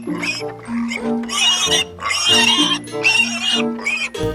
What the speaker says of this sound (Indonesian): Muncullah seekor babi.